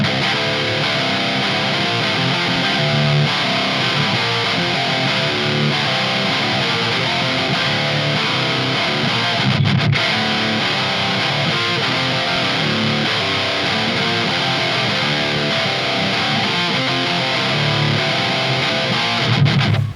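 Dense, saturated high-gain electric guitar tone from a ToneX amp capture with heavy distortion plays continuously, thick and loud throughout with no voices.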